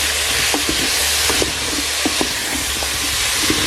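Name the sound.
stirring onions and couscous spices frying in pan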